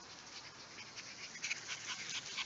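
Six-week-old Norwegian Buhund puppies pant and whimper softly and steadily close by, with faint yips in the second half and no talking.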